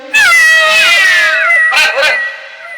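A man in a Tamil comedy scene imitates a cat's meow with a loud, drawn-out wavering cry, then two short yelping meows, close and alone.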